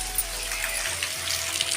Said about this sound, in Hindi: देखो संगवारी हो कितना बारिश होते।